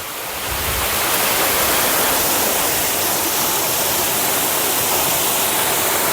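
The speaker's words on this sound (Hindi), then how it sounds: "ये मैं कुएं में पानी डाल रहा हूँ।" Water from a tanker truck pours into a well as a dense, steady rushing roar that swells in over the first second and then holds constant and loud, with no voices.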